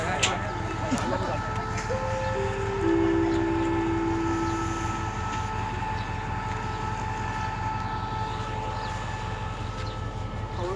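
Rapid train 102 from Chiang Mai to Bangkok draws into Bang Mun Nak station, its horn sounding in long tones over a steady rumble of diesel engine and rolling cars close by, with voices in the background.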